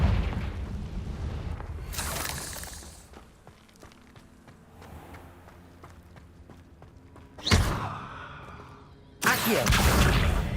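Confringo fire spell bursting in Hogwarts Legacy, with heavy booming blasts and rumbling impacts, loud and close, separated by quieter stretches of footsteps and ambient game sound.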